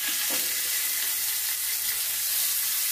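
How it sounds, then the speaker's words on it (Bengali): Hilsa fish pieces fry in hot mustard oil in a kadai, giving a dense, even, close-up sizzle that holds steady throughout with a brief stir-like knock near the start. "এগুলো ভাজতে দিয়ে দিলাম"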